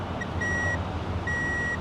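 A Numeros n-First electric scooter sounds its reverse-gear warning: two long, clear electronic beeps separated by a short pause, fairly close over a soft background hiss, with no talking.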